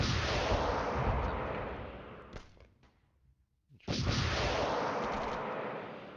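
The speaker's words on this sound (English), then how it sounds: "Now our artillery finally has started firing." Artillery fires in the Flashpoint Campaigns: Southern Storm war game: a loud, booming roar that fades into a near-silent gap and then erupts again with a second heavy blast that slowly rumbles away.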